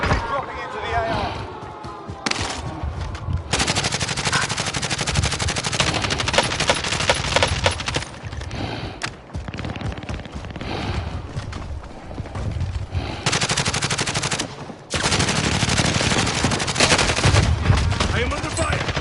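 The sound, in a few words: gunfire in Call of Duty Warzone video game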